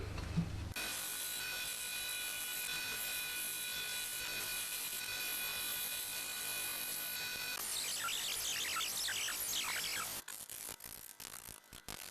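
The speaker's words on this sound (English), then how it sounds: "now it's time to saw out the fork with the included foot pedal" A foot-pedal saw cuts a wooden slingshot fork, making a steady, close rasping drone that becomes rougher and choppier near the end.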